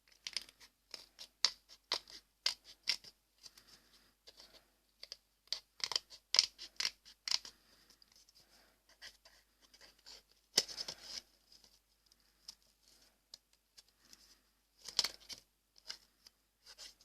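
Scissors cutting a paper bat for a Halloween decoration, with many quick, crisp snips and rustles in irregular bursts, close and quiet, with no talk.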